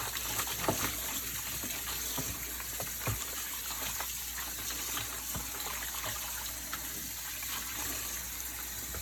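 Tap water runs steadily into a sink to rinse soaked eggplant slices, a continuous gushing splash with small spatters and clinks throughout, close and moderately loud, with no talking.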